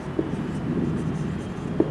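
Pen or chalk writing during an accounting lesson: soft scratchy strokes with a couple of light taps, quiet and close, under a low murmuring background.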